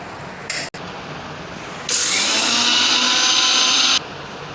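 Electric mixer-grinder whirring at full speed over Oreo cookie pieces in its jar, a loud harsh buzzing burst of about two seconds after a short blip of the motor starting and stopping.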